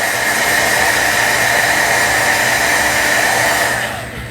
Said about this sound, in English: I'm going to just hit this with my dryer.